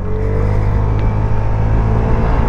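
A Vespa GTS 125 scooter engine hums steadily on a road test ride, a continuous close drone with mild wind rush and no speech.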